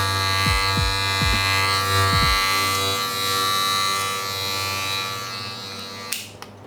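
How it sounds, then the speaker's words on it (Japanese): An electric hair clipper buzzes steadily up close, its hum dipping briefly in pitch a few times as it bites into hair, ending with a click. "クリッパーでやっていくと切れてない時は 音がシャリシャリ鳴らないので"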